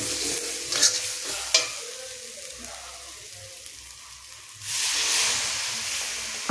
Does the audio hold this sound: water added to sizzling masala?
yes